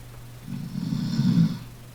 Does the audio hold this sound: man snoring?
yes